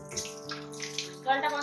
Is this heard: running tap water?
yes